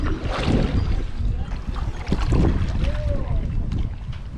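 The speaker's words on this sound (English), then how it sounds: "The hustle and bustle of the marina." Busy marina ambience with low boat engine rumble, wind buffeting and faint distant voices, plus the occasional creak or clank, steady throughout.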